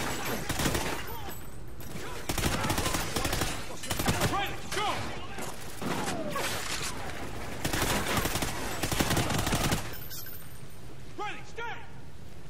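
Rapid bursts of automatic gunfire in Call of Duty Ghosts, loud and dense, coming in several clustered volleys with brief gaps and short voices mixed in.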